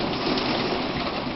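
Steady heavy rain hisses and patters throughout a passing thunderstorm, dense and close, with a low rumbling undertone beneath the downpour.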